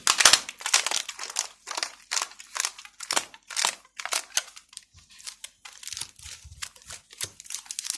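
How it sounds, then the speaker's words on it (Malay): Plastic bag crinkling and rustling in quick bursts as it is handled and knotted tightly for shipping a betta fish, close up, with brief pauses between. "kita ikat plastik kita dengan kukuh"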